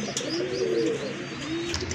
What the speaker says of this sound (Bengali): তো আরেক জোড়া কবুতর আছে এখানে